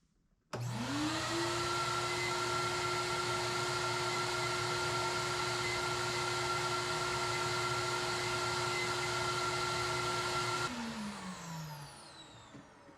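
A Dewalt DXV10P shop vacuum without a muffler starts abruptly, spins up to a loud steady whine and roar that holds for about ten seconds, then switches off and winds down, with no talking.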